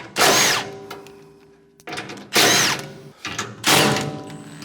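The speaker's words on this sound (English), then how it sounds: "My handy little impact. Spin the nuts off." Cordless impact wrench with a 9/16 socket spinning nuts off the top auger of a MUSKOX snowblower, three loud buzzing, rattling bursts of about a second each, close up with short pauses between.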